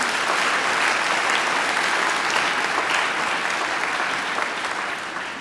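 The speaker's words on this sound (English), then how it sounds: "They deserve a great round of applause too." Dense, sustained applause from a large crowd at a university graduation ceremony at Macquarie, steady and loud throughout and tapering slightly at the end, with no voices over it.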